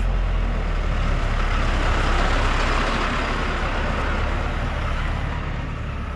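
A municipal truck rumbles up to lift a van in an arid Argentine desert during a storm, its heavy engine roar and broadband noise steady and loud throughout, with no voices.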